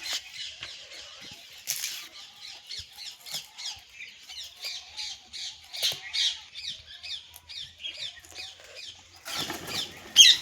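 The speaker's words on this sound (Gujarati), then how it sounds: "આ કબૂતર પણ ઉડીને વહી ગયું" Pigeons flap their wings and take off, repeated close wingbeats mixed with short squawking calls in an uneven burst-like rhythm, ending with a louder flurry.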